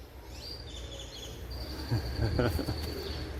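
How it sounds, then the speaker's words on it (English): Birds call in the background at a mechanic's place in Costa Rica, with high whistled notes and soft cooing over a low hum, plus a few brief knocks. "It's birds"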